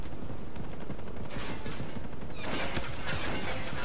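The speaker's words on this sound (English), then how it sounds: "I'm just gonna keep shooting this stuff" Gunfire from shooting at containers in the tactical shooter Ghost Recon Breakpoint, dense overlapping shots and bursts over a busy, noisy background, growing sharper toward the end.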